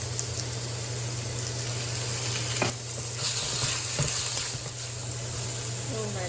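Diced pork stir-fries in a wok, a continuous loud sizzle and hiss with scraping and tossing sounds from the spatula, close by, with a low steady hum beneath.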